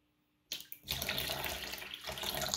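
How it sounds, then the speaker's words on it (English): Water poured into a tub to bathe a bearded dragon, a soft start then a steady close splashing pour after half a second that keeps running to the end, with a brief dip midway. "you pour some water in"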